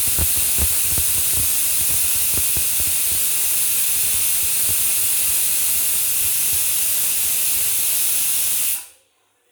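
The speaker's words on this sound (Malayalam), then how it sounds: "ഇത് 2ാമത്തെ വിസിലാണ് ഇപ്പോൾ അടിക്കുന്നത്." Loud, continuous hiss of steam from a pressure cooker's second whistle, holding steady for several seconds before stopping abruptly into silence.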